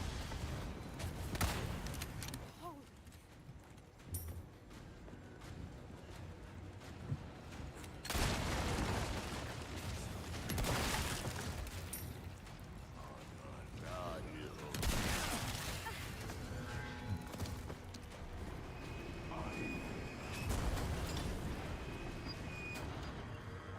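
Gunfire from the video game Resident Evil 4: repeated loud bursts and broadband blasts recur across the stretch amid busy game noise, with voices talking between the shots.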